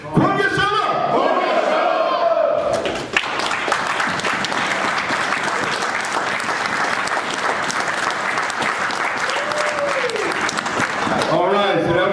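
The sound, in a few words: audience applause for a speaker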